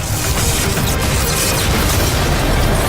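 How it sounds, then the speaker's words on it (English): Railgun fire and explosions in the Just Cause 4 video game make a dense, continuous wall of loud booms and blasts that runs steadily for the full stretch without any speech. "Right now we're using the railgun, one of the many new weapons in the game."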